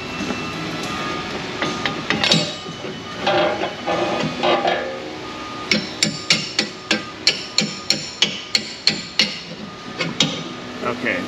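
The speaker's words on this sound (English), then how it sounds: "We can go ahead and pull the bolts out of it, or hammer them out if they don't want to come out." Repeated metal hammer strikes drive bolts out of a suspension part on a 2021 Toyota Tacoma truck, about a dozen sharp ringing blows in a steady rhythm in the second half, after scattered clanks and workshop handling noise.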